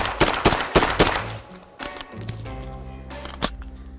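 Rifle fire from a frozen rifle, with a rapid cluster of sharp, loud shots up front and a few scattered single reports after, over a low hum.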